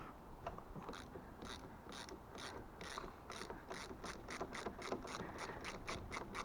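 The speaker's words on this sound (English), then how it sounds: "using 2 ratchets." Ratchet undoing a 10mm bolt on the clutch lever of a Yamaha Fazer FZS600 motorcycle, giving a quiet run of rapid, regular clicks that gradually speed up over several seconds.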